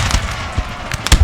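Musket volley fired at Austrian troops in Napoleon Total War, a ragged crackle of many shots popping at uneven intervals, with the loudest reports bunched toward the end, fairly close.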